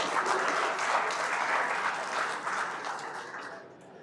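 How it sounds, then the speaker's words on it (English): An audience at the WESPAC 2025 event in Accra applauds, a dense, sustained clapping that stays loud before thinning and fading out near the end. "Shall we do a big round of applause?"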